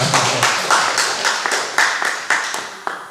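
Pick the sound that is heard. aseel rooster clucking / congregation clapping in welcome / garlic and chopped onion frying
congregation clapping in welcome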